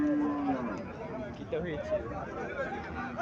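Cattle at a livestock market with a cow lowing briefly amid crowd chatter and nearby talking, the moo short and partly buried under the voices.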